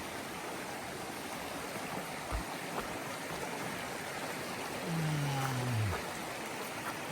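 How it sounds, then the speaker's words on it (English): Stream flowing alongside a trail near a water crossing: a constant broadband wash of running water, moderately near, with a brief tonal hum rising over it partway through and no speech. "going right along the stream"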